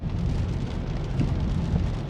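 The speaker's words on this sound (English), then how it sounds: "Remember, it's raining" Steady rain heard from inside a moving car in heavy weather, a continuous close hiss and patter with a low road rumble beneath.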